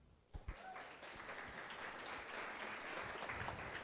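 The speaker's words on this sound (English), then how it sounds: "Please welcome them with clap." An audience at a youth forum claps to welcome a group to the stage, starting with a few separate claps and swelling into steady, moderate applause.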